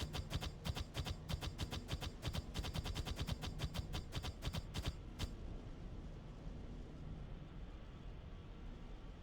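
Rapid bursts of automatic gunfire from units in the Warhammer 40,000 video game, a dense rattling volley for about five seconds that stops abruptly, leaving a low rumbling background.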